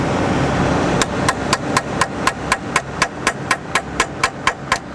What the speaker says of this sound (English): got out my ratchet hammer.